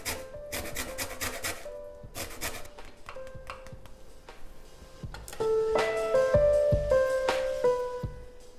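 A lemon rasped against a zester, short scraping strokes in quick bursts, close by in a kitchen, followed by a few clinks of utensils.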